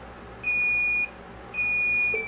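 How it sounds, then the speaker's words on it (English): A Flying Bear laser engraver sounds two loud, steady electronic beeps, each about half a second long, separated by a brief pause, as it connects. "And when you connect, it'll go through its little beeping thing again and kind of reboots a touch screen."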